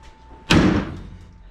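A door on a Factory Five 35 hot rod truck slams shut once, a loud, close, hard impact that decays over about a second, with quiet room tone before it.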